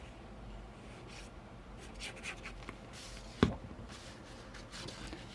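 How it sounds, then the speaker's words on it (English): A paper flap on an Authentique Imagine mini album is folded and burnished: faint, soft rubbing strokes close by, broken by one sharp tap partway through. "so you have your flap, fold and burnish"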